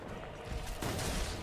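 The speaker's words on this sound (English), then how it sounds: "Gun." Rapid gunfire in the video game Lies of P, a dense burst of shots that continues over the full moment. It is faint and slightly muffled, with no talk over it.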